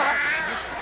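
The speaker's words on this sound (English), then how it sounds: "Eventually, Wes Raven finds his man and the birds swarm" Crows cawing in a swarming flock of birds in a scene from the Dario Argento horror film Opera, a dense, harsh chorus of calls filling the brief moment with no voices.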